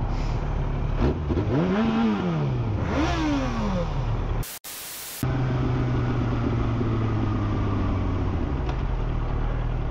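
A Yamaha R1 motorcycle engine revs up twice in rising sweeps, then settles into a steady drone after a brief dropout, close and fairly loud.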